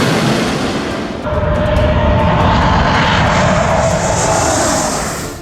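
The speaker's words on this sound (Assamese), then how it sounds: "ৰাজপথতেই অৱতৰণ কৰিছে ৰাফেল, সুখয়, তেজছ, মিৰাজ আদিৰ দৰে অত্যাধুনিক যুদ্ধ বিমানে।" Fighter jets such as Rafale, Sukhoi, Tejas and Mirage land on a highway during an air force landing drill, a loud, continuous engine roar that swells and holds steady before easing off at the end.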